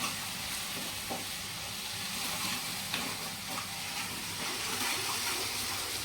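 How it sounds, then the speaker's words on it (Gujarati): A soft, steady sizzle of food sautéing in a pan in a home kitchen, with faint stirring scrapes and no talking. "થોડુંક સાંતળી લઈએ થોડોક સંતળાઈ ગયો છે"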